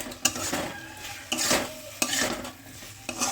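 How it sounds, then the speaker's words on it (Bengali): Fried vegetables tipped into spiced curry in a pan, giving a few scraping stirs and clanks of a utensil against the pan over a soft sizzle, with no talk. "যেগুলো ভেজে রাখা ছিল সব সবজি কিন্তু আমি একে সব দিয়ে দিলাম একসাথে"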